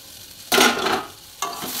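Pumpkin and potato fry in a wok, sizzling loudly in a burst that swells and fades, then a second sizzling surge starts near the end, with no voices.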